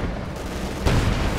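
A tank fires on an anti-tank gun emplacement in a WWII armored battle game, a single sharp boom landing partway through over a steady roar of battle noise.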